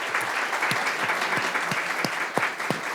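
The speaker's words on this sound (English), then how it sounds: "I'm now going to ask you to clap for this entire panel." Audience clapping for a panel at a women-in-leadership event, a brief round of applause with distinct individual claps from a modest crowd, fairly close and steady.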